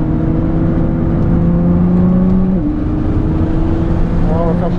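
A Nissan GT-R accelerates hard on a track, its engine a loud, steady drone heard from inside the car that drops sharply in pitch about halfway through, then climbs again.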